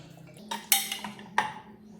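A spoon stirring mutton with turmeric and water in a pot, a few scraping clinks against the metal, brief and fairly quiet over a low hum.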